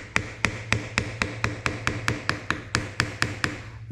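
An old oil seal gets tapped out of a Honda ATC engine case with steady, evenly spaced metallic taps, about sixteen sharp close strikes in a row over a low background hum.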